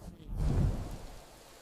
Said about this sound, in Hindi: हे प्रभु, इस विनाशकारी तूफान से हमारी रक्षा करें।